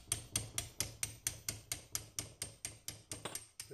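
A hammer taps steadily on a Polini 60cc cylinder from a Piaggio Ciao moped to work a part loose, delivering about fifteen evenly spaced, sharp metallic knocks, close and clear.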